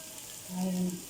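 Onions fry in a pan with paprika and spices for shawarma, a faint soft sizzle with a short low tonal hum toward the end of the brief moment.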